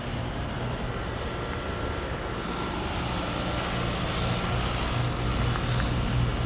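A 9,000 BTU heat pump from 2014 running outdoors in 48°F weather, giving a steady, continuous drone with a low hum that does not change, and no voices over it.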